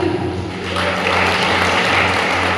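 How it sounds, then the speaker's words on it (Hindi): Applause from a school audience at a health awareness programme, a steady dense wash of clapping that fills the whole moment at close range, with a low hum underneath and no clear talk. "और जोर से ताली।"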